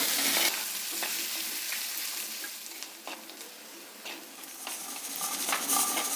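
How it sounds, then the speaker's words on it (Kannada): Onions and a little garlic fry in hot oil for a tempering in a pongal dish, giving a steady crackling sizzle broken by scraping stirs, with the hiss swelling louder near the end. "ಈರುಳ್ಳಿ ಇದು ಚೆನ್ನಾಗಿ ಹುರಿಬೇಕು ಈರುಳ್ಳಿ ಎಲ್ಲ ಮೆತ್ತಗಾಗೋವರೆಗೂ"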